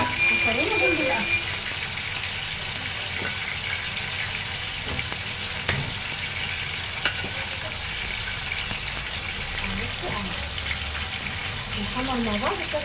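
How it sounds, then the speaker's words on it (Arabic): Macaroni sizzles and crackles steadily in hot oil in a pan, a constant close frying hiss with occasional stirring clinks, while someone speaks Arabic over it. "هنحمر ايه مكرونه جنب الاكل"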